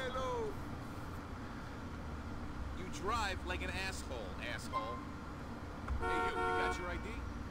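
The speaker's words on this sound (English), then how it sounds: "Don't honk at my dog." Car horn honking in the video game GTA IV, played with a police patrol mod, sounding as a few sustained toots over busy street ambience, with a longer, louder blast near the end.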